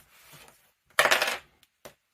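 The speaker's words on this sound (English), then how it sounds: "Roll the dice." Dice tossed for a budgeting cash-stuffing challenge give one quick, close clatter lasting about half a second, followed by two small ticks as they settle.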